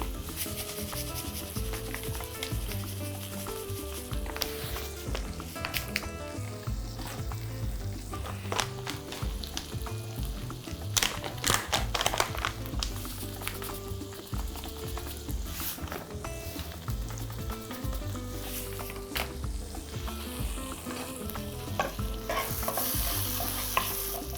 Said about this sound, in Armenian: Սոխն ու սխտորը տապակվեն